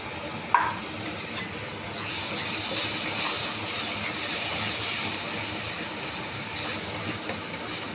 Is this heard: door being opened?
no